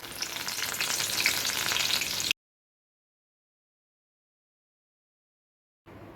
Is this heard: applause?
no